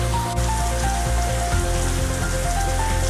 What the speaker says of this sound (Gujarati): બહાર વરસાદ પણ ચાલુ છે, તમને અવાજ આવતો જ હશે